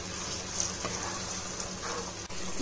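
Chicken washed with turmeric and salt goes into a hot pan for macaroni chicken biryani, giving a steady, even sizzle of frying that holds at the same level throughout, with no talking.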